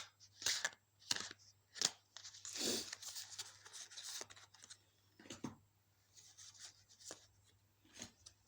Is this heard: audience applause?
no